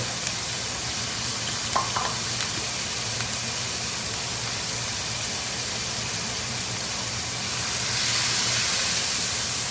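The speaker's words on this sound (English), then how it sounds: "place your onions in the pan with the juice" Onions sizzling in a pan of braising juice for balsamic braised beef, a loud, steady hiss and crackle that carries on unbroken throughout.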